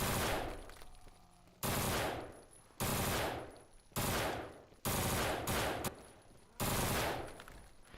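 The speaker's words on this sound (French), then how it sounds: "Et une petite mitraillette. Donc, on va les tester tout de suite." Submachine gun bursts in the zombie video game No More Room in Hell: about six loud, sharp volleys of rapid automatic fire, each a second or so long, separated by brief pauses.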